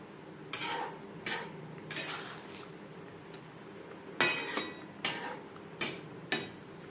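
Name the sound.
stirring egg into gravy in a pan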